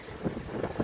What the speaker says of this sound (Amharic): ነፋሱ ራሱ ይበቃል